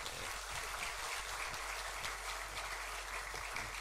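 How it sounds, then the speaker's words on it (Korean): Congregation applauding during a church ordination thanksgiving service, a soft, steady wash of many hands clapping that sounds distant and hushed over a low hum. "우리 이분들에게 뜨거운 격려 박수 한번 하십시다"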